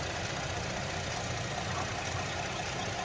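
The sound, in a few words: 2012 Buick Enclave 3.6 liter V6 engine idling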